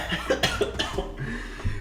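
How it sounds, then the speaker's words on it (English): A person gives a short series of dry, close coughs, about four quick bursts in under two seconds, with rough breathy tails between them. "who would cough all day on stream"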